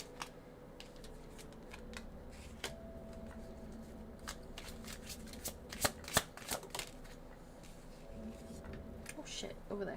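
Tarot cards shuffled by hand, a run of soft riffles and sharp flicking snaps building toward the middle, with faint talk underneath.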